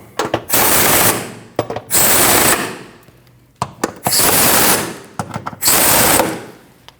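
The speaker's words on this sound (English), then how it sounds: "Tighten those 4 bolts down." A power tool tightens the four front driveshaft bolts on a 2013-2019 Ford Escape, three loud sustained whirring bursts separated by short clicks and clatter, close up with no talk.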